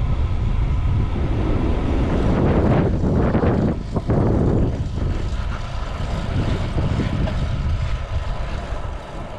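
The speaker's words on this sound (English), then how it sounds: "the wind just seems to stop for 30 seconds and then get really strong again" Strong gusting wind roars across the microphone while cycling a rough back path up a climb in Montenegro during an ultra-distance bike race, loud and continuous with a brief lull in the middle.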